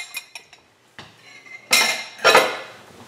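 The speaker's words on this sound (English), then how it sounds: "with a fork, I'm gonna mix these dry ingredients with the egg and schmaltz" Fork scrapes and clinks in a bowl while mixing egg and schmaltz into dry matzo ball ingredients, a few light taps followed by two louder scraping strokes, close and clear.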